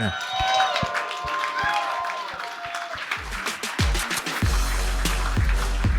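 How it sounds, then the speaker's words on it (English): A comedy show audience breaks into applause and cheering for a comedian, with a rising wash of claps and crowd noise heard over a live room and a voice speaking. "Ladies and gentlemen, clap it up for Valerie Vaughn."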